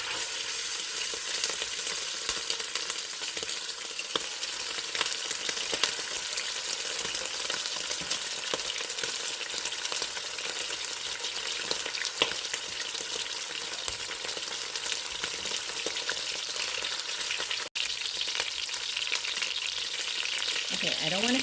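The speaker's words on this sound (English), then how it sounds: "this pan is talking to me. So I'm going to put in a couple pieces at a time." Beef pieces for birria tacos sear in a very hot, smoking pan, a loud, dense, continuous sizzle and crackle with no talking.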